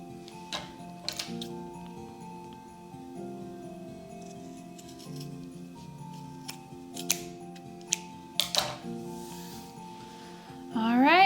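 Scissors trim material for a DIY Christmas decoration with scattered, close snips and clicks over a quiet indoor background. A louder rustle and crinkle comes at the end.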